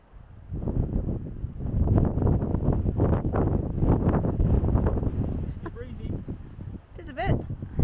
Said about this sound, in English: Breezy. Just a bit.